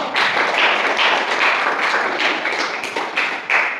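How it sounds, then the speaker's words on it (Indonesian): An audience at a teacher-training class presentation gives the presenting group a dense, loud round of clapping that holds steady for several seconds, close to the listener, with no talk. "kasih aplaus untuk kelompok 1"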